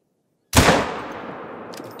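A single loud rifle shot fired at an animal in the hunting game The Hunter: Call of the Wild, in Te Awaroa National Park. One sharp blast followed by a long, fading echo, with no talk.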